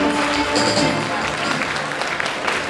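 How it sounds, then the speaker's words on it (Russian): Audience applause at a university gala talent concert fills a hall with dense, steady clapping, with voices and faint tonal sounds mixed in throughout. "Проводим аплодисменты."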